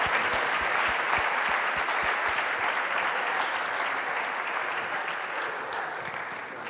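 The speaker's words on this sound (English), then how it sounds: "a big round of applause for them" Audience applause for mentors called to the stage at a startup challenge final gala, a dense steady clapping that carries on throughout, fairly close and loud, with a little crowd noise and a rhythmic low thumping early on.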